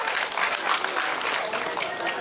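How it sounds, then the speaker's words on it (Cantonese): Audience clapping steadily at a Cantonese-language community event introducing a golden-oldies dance number, dense and continuous with no voices standing out. "多啲掌聲"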